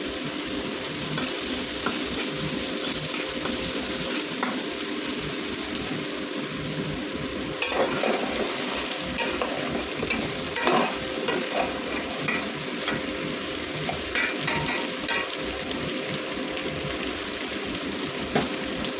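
Sour lemon frying in hot oil in a pan, a continuous close sizzle with occasional stirring scrapes and clinks, steady and loud with no talking.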